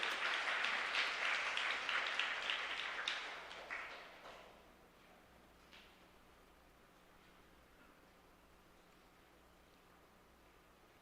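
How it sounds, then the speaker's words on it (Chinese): A church congregation claps to welcome a speaker: a burst of applause from many hands that fades away after a few seconds, leaving a quiet room. "我们用拍手来欢迎她"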